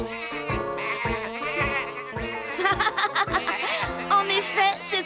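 Cartoon sheep bleat in a busy animated children's farm scene, several wavering calls rising over music and other cartoon sounds across the clip.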